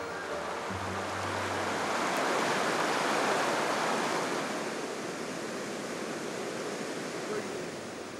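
The Clarée river in spring flood, swollen with snowmelt, roars as a dense, continuous rush of water that swells slightly in the middle, with a faint low hum at the start.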